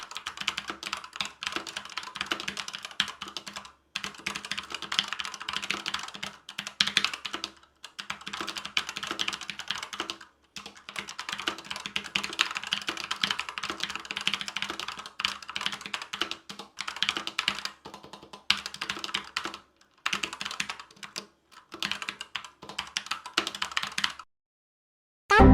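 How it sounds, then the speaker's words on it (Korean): Rapid typing on a Corsair K70 gaming keyboard with optical-mechanical linear switches of 45 g actuation force, giving dense bursts of key clacks with brief pauses between them, close and fairly loud with no talking. "키보드 타건 소리 한번 들어보고 가겠습니다."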